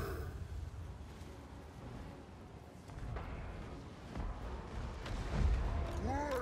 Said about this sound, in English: we are winning the artillery duel